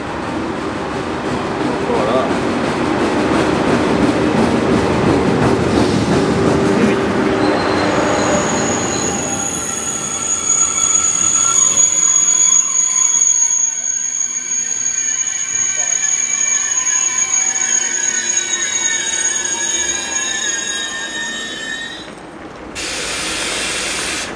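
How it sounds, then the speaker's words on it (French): A TGV high-speed train runs on rails between Aix-en-Provence TGV and Avignon TGV, heard as a loud, continuous rolling rumble. High, sustained wheel squeal rides over it, and the noise eases briefly near the end. "le TGV Louis à destination de Paris, départ prévu, 6h33"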